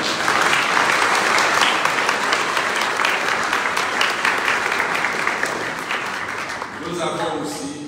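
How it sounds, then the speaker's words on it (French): Sustained congregation applause at a Sunday Mass in honor of a parishioner, full and steady, tapering near the end as a voice begins speaking. "On peut applaudir Simone"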